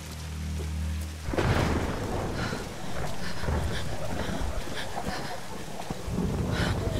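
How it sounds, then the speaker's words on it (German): Thunderstorm in a video game: heavy rain roars continuously with deep rumbling thunder rolling through, loud and close, after a quieter low hum in the first second. "Zuflucht vor dem Sturm suchen."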